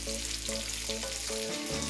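A spoon breaks down tinned tomatoes in a pot of simmering vegetable curry base, a constant frying sizzle with soft rhythmic stirring scrapes repeating about every half second.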